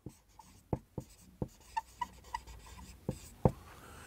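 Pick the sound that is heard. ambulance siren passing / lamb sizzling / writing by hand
writing by hand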